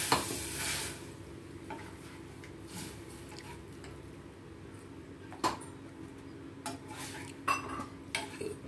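A paste of ground cashews, tomato and green chilli sizzles steadily in a hot pan for bottle gourd subji, with a spoon scraping and clinking against the pan at irregular intervals, close and without talk.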